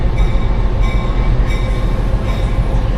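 A vintage passenger train on the Black River & Western Railroad rolls along steadily, a continuous low rumble of wheels on track with faint rattling, heard from inside a carriage.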